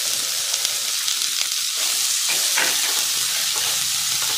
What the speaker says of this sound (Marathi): इथं कढईमध्ये मी 2 चमचे तेल गरम करायला ठेवलेलं होतं, ते गरम झालेलं आहे। त्यामध्ये पहिल्यांदा कांदा घालायचा आहे।